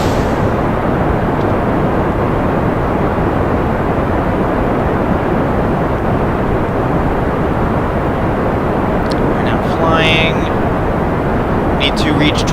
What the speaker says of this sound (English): Test solid fuel booster in flight over Kerbin.